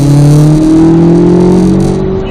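Car on a race track powering out of a corner, a loud, close engine drone rising steadily in pitch as it accelerates over about two seconds, with no voices.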